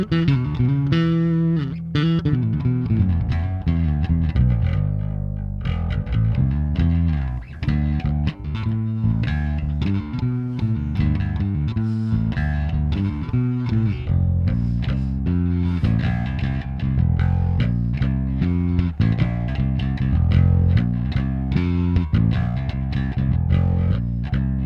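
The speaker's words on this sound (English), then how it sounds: "This is a really good distortion." A bass guitar plays a continuous riff of punchy notes through the gritty, fuzzy distortion of an MXR Bass DI+ pedal.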